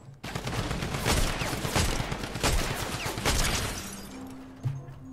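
Rapid gunfire from several new weapons during a Fortnite builds match, dense volleys of shots and sharp bursts packed close together, loud and continuous for most of the stretch before tapering into a lower tone near the end.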